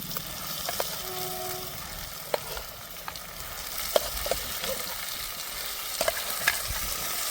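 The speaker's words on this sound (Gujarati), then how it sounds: "હવે આપણે નાખી દઈશું ટમેટાની ગ્રેવી કરી હતી ટમેટાની ચટણી માટે." Tomato gravy hits a hot tempering in the pan, producing a steady frying sizzle with scattered clicks and scrapes of stirring throughout, close and moderately loud.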